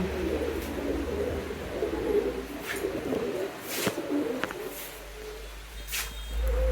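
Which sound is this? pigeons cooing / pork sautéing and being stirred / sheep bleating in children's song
pigeons cooing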